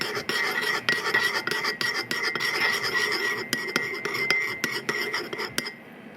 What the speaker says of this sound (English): So just stir that up.